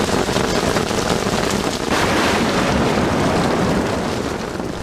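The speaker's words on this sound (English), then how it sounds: "This sound of rain and its accompanying breeze sends many to sleep" Steady rain falling with a breeze, a dense, even hiss of drops that holds at the same loud level throughout with no voices.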